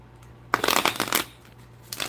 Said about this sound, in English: Let me do the shuffling.